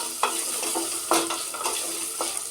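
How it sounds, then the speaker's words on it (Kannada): Carrot, cauliflower and potato pieces frying for veg pulao, with a bright close-up sizzle and several quick scraping stirs against the pan, no talking. "ಇದಿಲ್ಲಾಂದ್ರೆ ನೀವು 3 ನಿಮಿಷ ಫ್ರೈ ಮಾಡಬೇಕಿದ್ದು"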